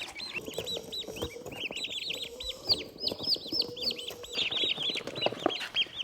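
About ten young turkeys in a box chirp continuously in high, repeated peeps, close by and busy, with soft rustling and shuffling underneath.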